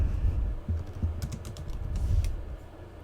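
Fingers type on a computer keyboard in short bursts of close, crisp key clicks, with a few sharper taps near the end and no talk.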